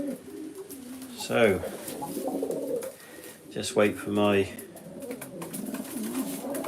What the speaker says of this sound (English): So these are my pigeons from last week